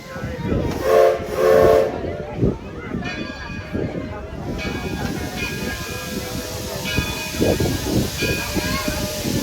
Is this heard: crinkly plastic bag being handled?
no